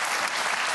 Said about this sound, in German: Da klatschen Menschen zu Recht